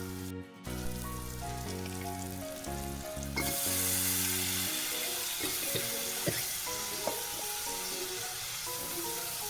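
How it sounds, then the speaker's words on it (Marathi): Chopped ridge gourd sautéing in fried spice masala, a sizzle that rises mid-clip with a few clinks of stirring, under steady background music. "तर दोडकी टाकून घेतल्यानंतर ती दोडकी सुद्धा आपण छान प्रकारे या मसाल्यामध्ये परतून घ्यायची आहेत"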